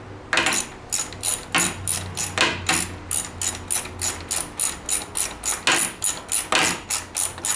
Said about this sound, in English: I do believe we were using the 1/2-inch socket. And a 9/16 wrench.